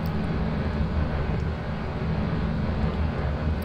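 Rocket engines roar steadily in Kerbal Space Program, a closely clustered set of engines throttled back while running hot, giving a continuous low, dense rumble at constant loudness with no talk.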